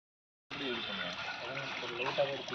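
Water runs continuously into a street drain during cleaning of a lane, a steady close splashing flow that starts abruptly, with someone talking over it.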